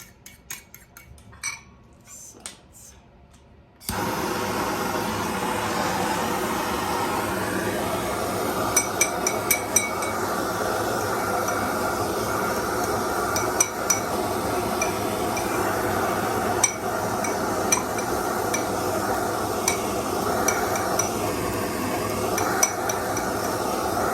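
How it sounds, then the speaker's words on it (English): A steady roaring hiss from a kitchen torch flames eggs being scrambled in a pan, dished with anchovies. Faint scraping and clinking of a utensil against the pan recurs throughout the long, even burn. "So basically, I just keep scrambling the eggs while I torch."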